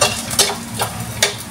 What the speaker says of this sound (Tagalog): Inilagay ang dilis. Mainit na yung kawali mga agawad.